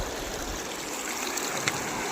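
Water rushes fast over the full Chinchpasla check dam, a steady close roar with a few small splashes and no voices.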